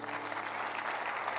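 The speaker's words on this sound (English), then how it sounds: "can we clap for these guys?" A church congregation claps for a group of young people, a short burst of steady, moderately loud applause with a faint low hum beneath.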